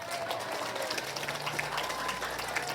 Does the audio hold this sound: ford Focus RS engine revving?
no